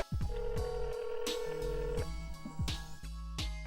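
A telephone call is placed through a calling system. A series of clear dialing tones sounds, then a long held tone, followed by further tone beeps and short blips. The sounds are loud and close, with no talk.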